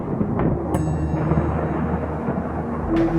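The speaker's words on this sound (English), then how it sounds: "Lightning flashed, thunder roared." Thunder rumbling during a storm at sea near a rocky shore, a low continuous roll with a sharper crack near the start, fairly loud and with no voices.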